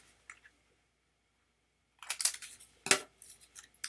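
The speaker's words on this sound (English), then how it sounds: "Just snip a little piece off the end" Scissors snip a small piece off the end of material during a Cricut wooden sign project: a couple of quick, close, crisp cuts after a quiet pause, with a few lighter clicks and rustles afterward.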